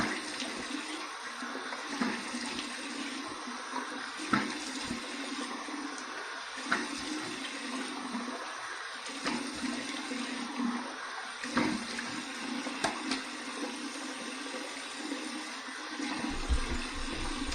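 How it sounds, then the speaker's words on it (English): Cold water runs steadily from a bathroom tap for a rinse while shaving with a safety razor, a constant rushing splash with small knocks and shifts in flow, close and fairly loud, with no talking. "here's my cold water rinse"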